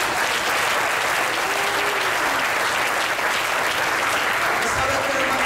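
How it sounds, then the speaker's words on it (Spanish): A church congregation breaks into loud, sustained applause that fills the whole stretch, a dense wash of many hands clapping at once with no break. "Denle un aplauso a Cristo."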